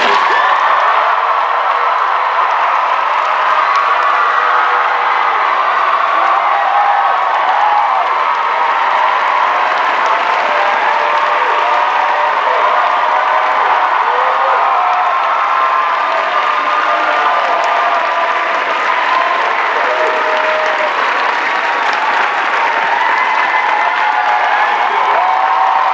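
An audience applauding to welcome Senator Bernie Sanders, dense sustained clapping with cheers and occasional whoops from a large crowd, loud and continuous throughout.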